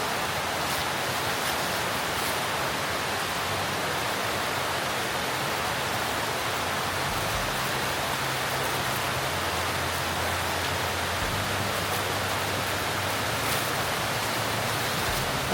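Steady broadband rain hiss falls outside a camper van on a wet day, a constant even wash with no voices, brief faint low rumbles underneath.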